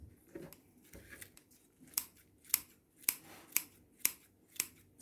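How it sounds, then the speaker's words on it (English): Scissors snip through fresh herbs for pesto on a Portuguese homestead, a run of sharp, close cutting clicks coming in a steady rhythm of about one per half second, with no talking. "So I'm just using the scissors just to chop it down a little finer"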